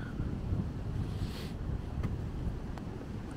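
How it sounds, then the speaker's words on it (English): Steady low wind buffeting a microphone on a walking path, a continuous rumbling roar with no other clear sounds. "It's still windy."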